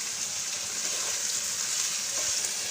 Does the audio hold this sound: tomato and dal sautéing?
yes